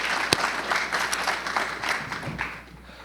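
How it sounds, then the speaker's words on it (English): Applause fills a university hall during a State of the University address at Florida A&M University: a dense, continuous patter of many hands from a large audience, tapering off slightly near the end. "I would like to give you a round of applause"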